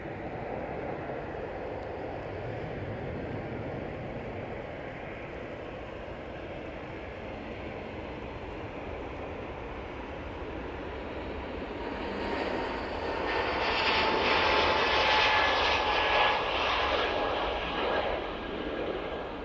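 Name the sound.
EasyJet Airbus A320neo jet taking off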